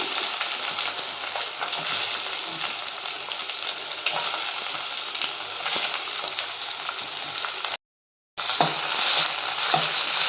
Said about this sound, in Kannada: ಈಗ ಇದಕ್ಕೆ ನಾನು ಈರುಳ್ಳಿನ ಹಾಕ್ಕೊತೀನಿ